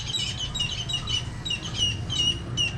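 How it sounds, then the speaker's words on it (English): Small birds chirp in quick, high, repeated twitters over a steady low outdoor rumble during an Ironman 70.3 triathlon race in Cebu, moderately near and fairly faint. "Some birds."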